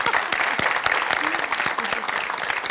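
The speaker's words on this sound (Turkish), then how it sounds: "Hocama bir cesaret alkışı." Audience applause for a lecturer at a live Turkish talk show, crisp individual claps from a sizable crowd, close and steady, with a few voices mixed faintly underneath.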